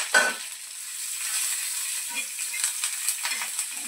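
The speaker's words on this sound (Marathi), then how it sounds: "तेल टाकले याच्यात" Sliced green chillies dropped into hot oil in a home kitchen: a sharp splash at the start, then a steady close-up hiss and crackle of frying that continues throughout with small pops, and no speech.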